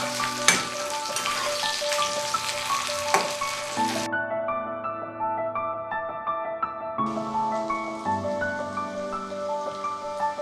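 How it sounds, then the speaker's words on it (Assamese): Sliced onions sizzle and crackle steadily in hot oil in a pan while Assamese sesame chicken is cooked, with occasional stirring clinks and a tonal ringing in the background. "পিঁয়াজ ভাজি হৈছে আমাৰ।"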